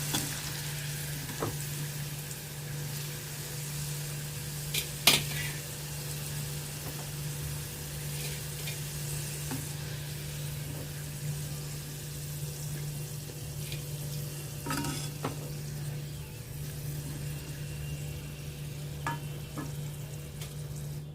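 Okra (lady's finger) frying in hot oil for an evening snack, a steady low sizzle running throughout with a few scattered clinks and pops, close and moderate in level, no talking.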